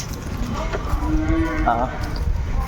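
Cattle mooing at a busy cattle market, several clear low moos in succession over a constant crowd murmur and background market noise.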